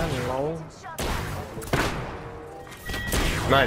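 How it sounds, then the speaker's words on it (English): Gunfire from weapons in the battle royale game Apex Legends, a few sharp bursts of shots spread across the moment under excited, overlapping talk from players. "I was shooting at him."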